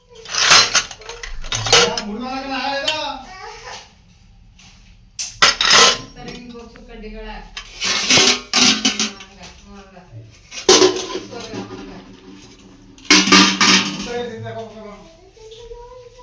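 Metal puja vessels being washed and handled, producing several bursts of bright clanking and clinking separated by quieter pauses, with a voice talking in between.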